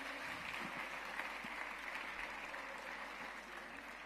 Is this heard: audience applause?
yes